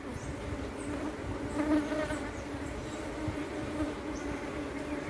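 Honey bees hum and buzz around their hive at close range, a steady drone that swells briefly now and then, with no talk.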